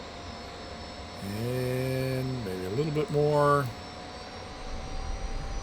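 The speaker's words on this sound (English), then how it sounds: "let's start running the engine up slowly, give it lots of time to catch up" The engine of an F-86 Sabre jet being run up at startup gives a steady, thin turbine whine that persists behind someone talking. The engine noise is moderate and mostly constant, without a clear rise.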